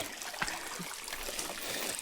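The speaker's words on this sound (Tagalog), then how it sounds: "Ito yung tubig." Water trickles and gurgles softly in a small stream, a steady faint babble with no talk over it.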